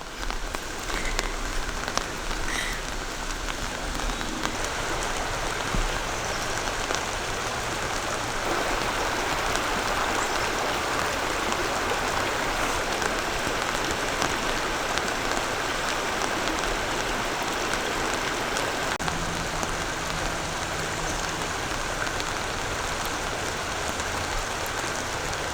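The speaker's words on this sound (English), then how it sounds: "This is a section of the same river that I hiked right next to a few weeks ago" The Patapsco River in Maryland rushes past near a hammock campsite, a dense, continuous broadband wash of flowing water that stays steady and fairly loud throughout, with no talking.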